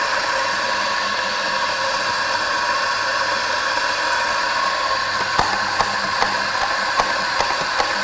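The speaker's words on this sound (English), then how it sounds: "Turn on your grinder." A coffee grinder runs steadily with a loud, even whirring drone, with a few sharp clicks and knocks toward the end, no talking.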